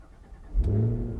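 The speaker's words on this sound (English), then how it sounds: "every time you start it up, you're gonna hear that V8" A 2023 Cadillac Escalade V's supercharged V8 cranks and fires, a short starter whir bursting into a loud, deep rumbling idle that holds steady, close and alone.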